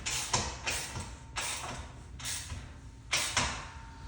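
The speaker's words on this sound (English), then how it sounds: "Wrench and socket." A wrench and socket turn a bolt while fly arm attachments are installed on a Bells of Steel cable tower. About five short, close ratcheting bursts come in an uneven rhythm with small gaps between strokes and no talking.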